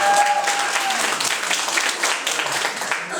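A lecture audience at a Democratic Party political academy in Sejong bursts into sustained applause, with a brief whistle-like tone at the start over the steady, dense clapping.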